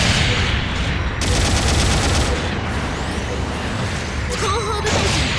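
A support artillery bombardment in Gundam Battle Operation 2 as a continuous rumble of dense explosions and gunfire, loud and sustained, with a brief electronic warble near the end.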